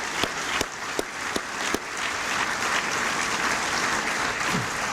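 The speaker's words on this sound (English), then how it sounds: "I'd like to give them a great round of applause." Steady applause from an audience, a few sharp claps first and then a dense, sustained patter of many hands clapping, with no talking.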